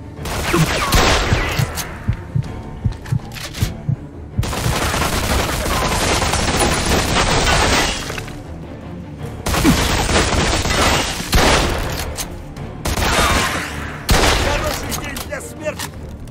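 Loud bursts of gunfire ring out in the video game Mafia II: Definitive Edition, with dense volleys repeating in several long stretches separated by short pauses.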